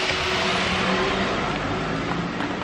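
A 2018 superbike engine roars steadily and loudly close by as it pulls hard after a gear change, a dense broadband wash with a sustained engine drone and no speech.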